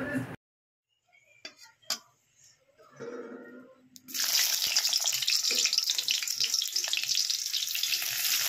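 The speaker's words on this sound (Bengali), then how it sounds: "কড়াইতে পেঁয়াজ দিয়ে ধুন্দুলের জন্য সম্বার দেওয়া হয়েছে" Onions hit the hot oil in a wok as a ridge gourd dish starts cooking, bursting into a loud, steady sizzle after a few quiet utensil clinks and scrapes.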